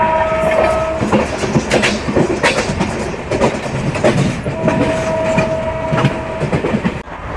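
The Venkatadri superfast express, Chittoor to Kacheguda, runs along the track with loud, close rumbling and rhythmic wheel clatter. Sustained horn tones sound twice over the noise, and there is no talking.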